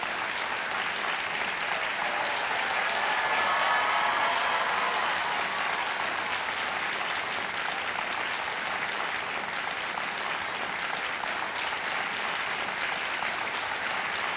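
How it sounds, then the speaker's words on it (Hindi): Sustained, loud applause from a television quiz show studio audience, steady and unbroken for about fourteen seconds with no voices over it. "जोरदार तालियां बज जाए क्योंकि इनको चेक मिलने वाला है।"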